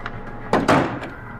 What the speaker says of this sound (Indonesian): Tapi jelas banget suara pintu diketok.